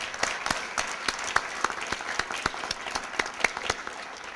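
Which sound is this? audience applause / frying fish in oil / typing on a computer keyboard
audience applause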